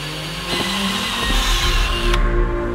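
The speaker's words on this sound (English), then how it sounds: "just drill out one of them" A steady, whining power drill runs continuously, close by and fairly loud, drilling a hole in a steel Viking helmet, with a slight change in pitch partway through as it bites into the metal.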